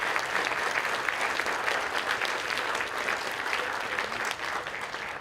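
A crowd at an 8th grade promotion ceremony gives sustained, dense applause, an even wash of many hands clapping at moderate distance with no talking over it.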